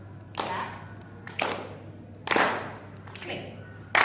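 An audience claps together at a slow, steady pace during a Warli folk story performance at a world forum, with four distinct claps spaced about a second apart over a low steady hum.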